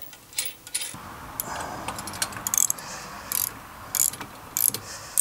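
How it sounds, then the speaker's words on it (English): A hand ratchet clicks in short bursts while tightening 17 mm nuts on a hitch-mounted bike rack for fat-tire electric bikes, a series of close, quiet pawl rattles with brief pauses between strokes. "If you guys want to use your own ratchet like I am, the nuts are 17 millimeter."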